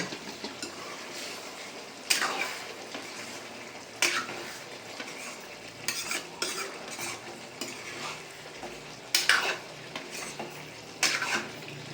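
Chicken sizzles softly in hot oil in a pan while a utensil scrapes and stirs it, with sharper clinks every couple of seconds.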